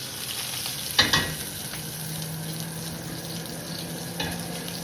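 A ribeye steak sears in a hot pan with a steady sizzle, broken by a couple of sharp clatters near the start as it is moved, then a quieter scrape later on.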